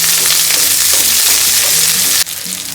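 Crushed garlic and small onions fry in a pan, a steady loud sizzle running continuously with faint stirring scrapes, briefly dipping near the end before resuming.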